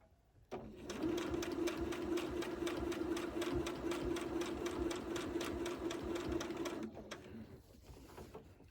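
Sewing machine free motion quilting a quilt border, a close, continuous rapid needle chatter running steadily for about six seconds before stopping, with a quieter hum trailing after.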